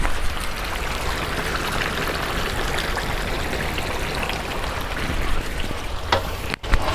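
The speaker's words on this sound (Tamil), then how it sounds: "கொதிக்குது பாருங்க ஃபுல்லாக" Homemade herbal hair oil bubbles and sizzles in a pot at a steady, dense crackle, close and continuous, like a rolling boil with frying spatter.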